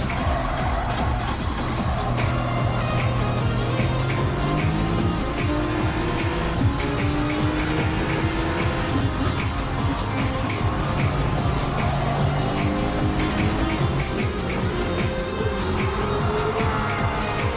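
Race cars, road-going models including a Genesis, battle for position on a circuit, their engines droning continuously and loudly as the pitch rises and falls through shifts, with occasional tire squeal and no voices.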